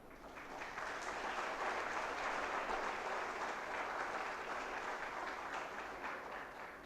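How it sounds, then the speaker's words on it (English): Steady applause from a sizable crowd at a farewell ceremony, a dense wash of clapping that holds evenly for several seconds, heard from a distance. "Let us all give him a resounding applause"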